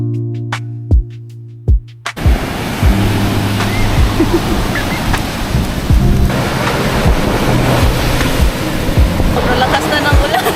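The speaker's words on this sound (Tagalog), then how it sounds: "Sobrang lakas na ng ulan." Heavy rain pours down at a beach in La Union, a loud, dense hiss with rumbling surf-like wash underneath, beginning after a few sharp knocks and continuing steadily to the end.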